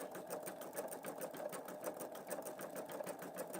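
A Pfaff Creative Vision embroidery machine stitches slowly in a steady, rapid mechanical rhythm of evenly spaced needle strokes, quiet and alone.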